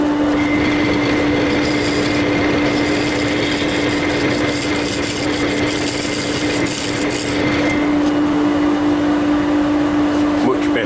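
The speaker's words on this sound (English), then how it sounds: "I'm just going over with the little carbide scraper." A small carbide scraper takes very gentle finishing cuts inside a stemmed yew bowl spinning on a wood lathe, giving a steady whirring hum with a constant motor tone throughout.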